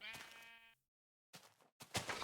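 Sheep in Minecraft bleat, giving one long wavering baa, then after a pause two shorter bleats in quick succession, close and moderately loud.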